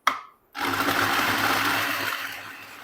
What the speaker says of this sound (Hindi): ये प्याज हम एक चॉपर में डाल देंगे और प्याज को हमने यहाँ पे चॉप कर लेना है